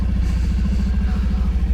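Motorcycle engines of bikers on a road trip, a steady low rumbling drone close by with a pulsing beat, continuous and fairly loud with no talking.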